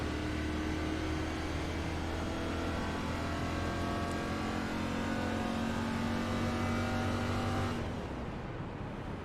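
A race car in the iRacing video game at Daytona drones past in a steady, loud engine roar that holds for about eight seconds before cutting off sharply near the end.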